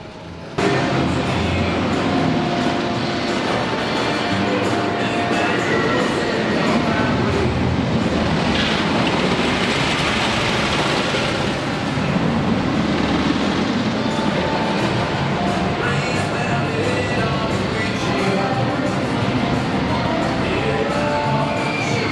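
Texas Stingray roller coaster train running along its track at SeaWorld San Antonio, a loud, continuous rumbling roar with rattling and clacking that holds steady for about twenty seconds, with no talking.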